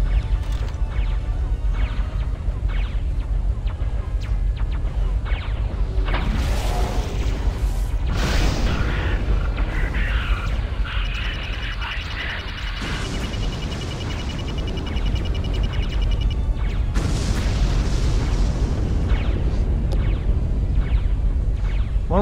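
Torpedo explosions boom and crash in the space-combat game Wing Commander Saga, heavy roaring blasts swelling and fading over a steady engine drone, with no voices.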